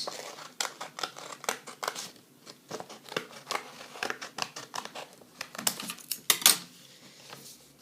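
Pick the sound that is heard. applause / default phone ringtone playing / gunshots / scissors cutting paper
scissors cutting paper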